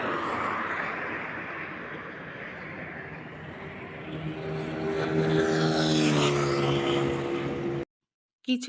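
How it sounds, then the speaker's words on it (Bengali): A motorbike ridden very fast approaches along a road, its engine whine rising and swelling loudly as it passes close by, then cutting off abruptly. "কিছু বাইকার এত জোরে চালায়"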